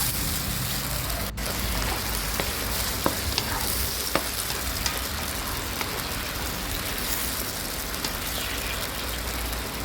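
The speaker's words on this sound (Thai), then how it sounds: "เติมน้ำนิดหน่อยนะคะ แล้วก็ผัดต่อไปค่ะ" Mushrooms and tofu stir-fry with soy sauce, oyster sauce and a little sugar and water, sizzling steadily in a pan with occasional clicks of a spatula scraping and stirring, close and continuous with no talk.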